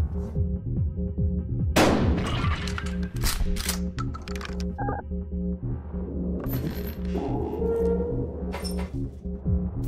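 A single sharp shotgun blast in Buckshot Roulette, sudden and loud, set against a low humming game ambience with a few clicks and mechanical clatters following.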